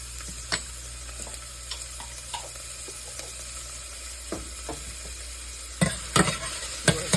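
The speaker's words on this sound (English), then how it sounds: "Saute this for a couple minutes" Minced garlic sautéing in a pan alongside minced onion for a risotto, with a steady close sizzle broken by scattered stirring scrapes and a few louder clatters near the end.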